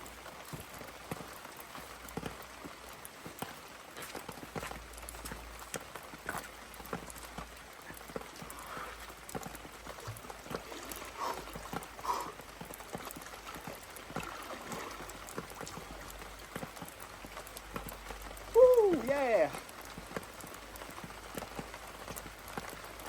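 Steady rain patters on outdoor surfaces on a cold day beside an ice-water pool, a continuous soft hiss of drops with one brief louder splash near the end.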